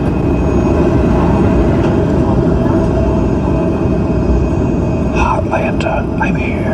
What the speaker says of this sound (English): Really long plane.